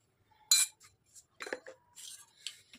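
A spoon mixing dry flour for instant dosa batter in a bowl, a few sharp metallic clinks and scrapes separated by short silences, close and clear.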